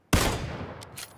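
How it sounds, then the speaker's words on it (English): A single loud, close gunshot in a video game with a sharp attack and a long echoing tail, followed by faint clicks. "Oh, I shot him"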